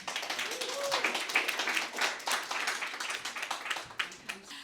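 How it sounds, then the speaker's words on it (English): Scattered clapping from a modest audience, steady and moderate in volume, with some voices mixed in underneath. "Everyone, please clap for Susan Lerner"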